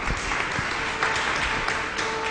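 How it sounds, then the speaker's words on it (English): Audience at a Hindi prayer retreat in Panvel, Mumbai, clapping steadily together, a dense continuous patter of many hands lasting throughout with no talk over it. "Let us clap and thank God."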